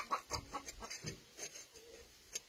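A chicken indoors gives a series of soft, quiet clucks in an irregular rhythm, close but faint, with little else around it.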